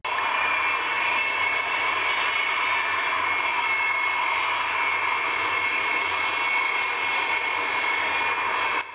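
Antonov An-225 heavy cargo aircraft taking off, a continuous loud roar of jet engines holding steady throughout, with no voices.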